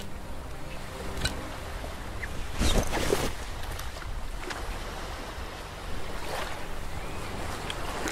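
Ocean waves rolling onto the shore in the VR game The Shore, a continuous wash of surf with a few louder surges breaking against steady wind-like background noise.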